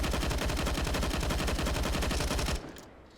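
AUG assault rifle fired in CS:GO, a rapid full-auto burst of loud, evenly spaced shots lasting about two and a half seconds before cutting off into a short fading echo.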